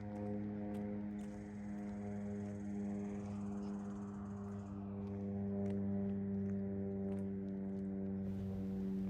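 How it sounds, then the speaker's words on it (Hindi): Aircraft flying over an area near an airport and army base, a steady droning engine hum with strong even tones that holds throughout, fairly distant and unbroken, with no talking. "यहाँ बहुत ज़्यादा प्लेन या हेलीकॉप्टर्स उड़ते रहते हैं"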